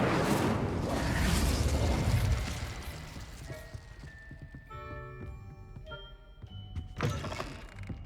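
Incendio fire spell cast in Hogwarts Legacy, a loud whooshing burst of flame that fades over a few seconds, followed by layered ringing magical tones and a couple of thuds.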